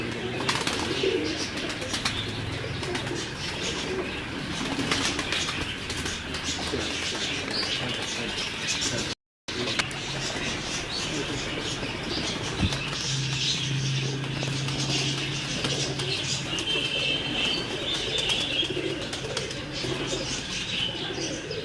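Jailer breed pigeons coo steadily and close by, with occasional wing flapping and chirps, in a continuous bird-filled scene.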